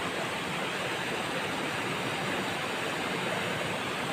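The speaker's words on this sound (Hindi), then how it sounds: "ये बहुत छोटे छोटे झरना बहुत कितने सुंदर बहुत" Small waterfalls spill over rocks in hilly country at Dargadi, Deogarh, making a continuous, even rushing hiss with no talking.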